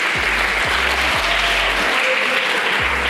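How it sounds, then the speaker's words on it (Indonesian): Audience applause for the openSUSE Indonesia community at a Linux keynote, a steady dense wash of clapping from a crowd that holds level throughout without voices. "Tepuk tangan buat OpenSUSE ID"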